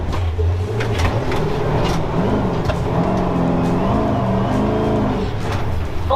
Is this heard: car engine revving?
yes